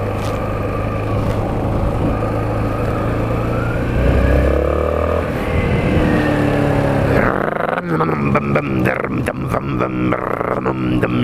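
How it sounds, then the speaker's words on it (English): Motorbike engine while riding along a town road at night, a loud droning hum that rises and shifts pitch as it accelerates, with a rider talking over it toward the end. "Yeah, I know my motorbike noises"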